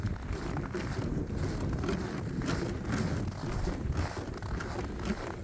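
Strong wind buffets around a sheep farm building in winter, a steady loud rushing roar with gusty rumble hitting the microphone up close.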